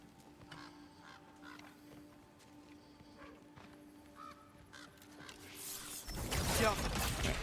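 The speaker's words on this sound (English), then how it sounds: "Is that a Odin crow?" Odin's crow in God of War Ragnarok gives a few short, harsh calls over quiet game ambience, followed by a louder, noisy swell of sound toward the end.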